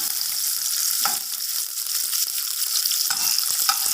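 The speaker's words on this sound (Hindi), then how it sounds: "इनको लो आंच में हम भून लेंगे।" Ingredients for sheer khurma roast in a pan over a low flame, giving a steady, close sizzle with a few brief scraping stirs and no voices.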